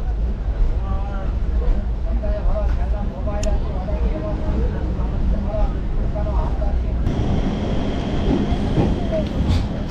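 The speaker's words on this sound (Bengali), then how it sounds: "একদম নির্ধারিত সময় 2:45 ছাড়লো ট্রেন আমাদের কাটোয়া" A passenger train pulling out of Katwa Junction in West Bengal, a loud continuous rumble and rattle of rolling carriages with onboard talk mixed in, the noise shifting and growing heavier near the end.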